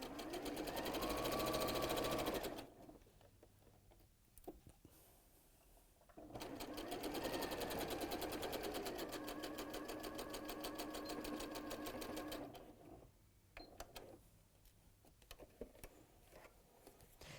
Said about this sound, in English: You don't need to do a reverse stitch at the beginning and the end because you're pressing to one side